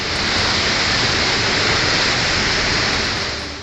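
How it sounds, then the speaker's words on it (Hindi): Floodwater surges through drains after torrential rain in Kotdwar, Pauri Garhwal, Uttarakhand, a dense, continuous roaring rush held close and steady throughout. "यहाँ नाले भयंकर गर्जना के साथ उफान मार रहे हैं।"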